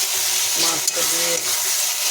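Fish fries in a pan with spices, onion, ginger and garlic paste while being stirred, a steady loud hiss of sizzling oil close up with soft scraping movements through it.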